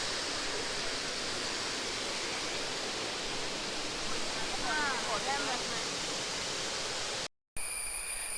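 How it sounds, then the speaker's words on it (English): Thoman Kuttu waterfall roars as a steady, broad rush of falling water that fills the whole scene, with a brief chirp over it midway and a short cut near the end. "Guys, enjoy the waterfall."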